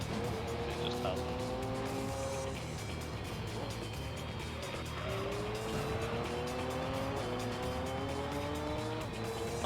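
Race cars, among them a TT and a Coupe, in the video game Gran Turismo 3: engines whine and shift pitch through gear changes, with tire squeal layered over a continuous roar.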